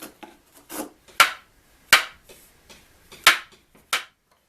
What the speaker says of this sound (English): The saw left a rough edge that needed to be planed and sanded smooth